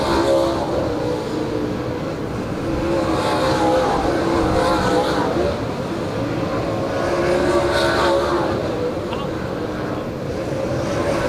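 Super late model race cars run a hot lap session at Adams County Speedway, their engines a steady, loud roar throughout while an announcer talks over it.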